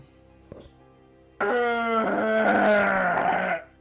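A human voice imitates a wolf, making a long, strained, growling wail. It comes on loud and abruptly after a short quiet pause and holds for about two seconds.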